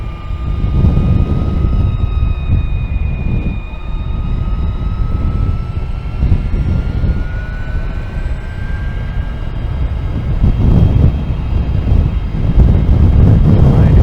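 Crosswind buffets the microphone while riding an Energica electric motorcycle, a loud continuous rushing roar with gusty swells and a faint whine running through it.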